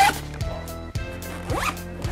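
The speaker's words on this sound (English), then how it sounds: "So with the double YYK zipper," The double YKK zipper on a 5.11 tactical bag is pulled open in several quick, raspy runs, each a short rising zip, close and clear, with no one talking.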